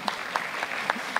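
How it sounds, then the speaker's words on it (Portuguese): Soft, distant applause from a conference audience at a national education forum in Brazil greets speaker Daniel Cara, a steady patter of clapping with faint accents. "Vamos aplaudir?"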